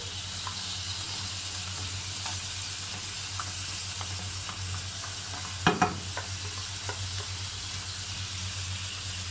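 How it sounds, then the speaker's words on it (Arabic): Garlic and onion sautéing in oil pushed to one side of a frying pan, a steady close sizzle with a brief louder clatter midway and faint scrapes, no talk. "هنفضي جنب كده في الطاسة عشان نشوح فيه الثوم"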